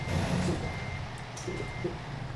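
A truck's reversing alarm beeps steadily in American Truck Simulator, a repeating high tone over a low engine rumble, moderately loud with no talk.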